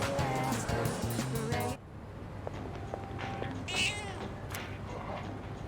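A cat meows in the video game Persona 3 Reload, heard in the opening moments over game music, followed by quieter in-game ambience.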